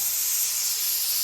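A pressure cooker on the stove, cooking saag and rice, lets off a steady, loud steam whistle-hiss that continues unbroken throughout, with no talking.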